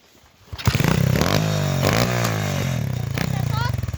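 A motorcycle engine revs hard for a drift, loud and close, roaring steadily from the first moments with its pitch rising and falling throughout.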